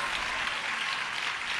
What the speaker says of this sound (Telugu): చప్పట్లు కొట్టండి, స్తోత్రం కలుగును గాక.